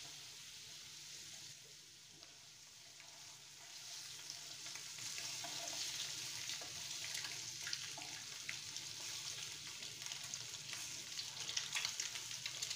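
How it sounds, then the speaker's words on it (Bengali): Boiled eggs and potatoes fried in oil for an egg curry: a steady sizzle that swells and grows louder and busier over time, heard close with no talking. "এর মধ্যে ছেড়ে দিলাম সেদ্ধ করে রাখা ডিম আর আলুটা, যেগুলোকে একটু লাল লাল করে ভেজে নেব"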